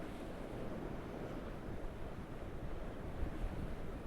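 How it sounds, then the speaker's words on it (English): Wind roars steadily over surf breaking at Witches Point, a rocky South Wales coast, a constant loud wash of waves and gusts buffeting the microphone with no pauses. "It's hard to do in this wind."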